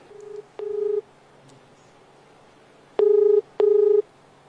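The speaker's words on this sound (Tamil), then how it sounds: "இப்போயே நான் லாயர்கிட்ட வேணால் ஃபோன் பண்ணுறேன்" A telephone dials a lawyer's number with keypad tones: a short beep, a longer tone, a pause, then two longer tones in quick succession, clear against quiet room hiss.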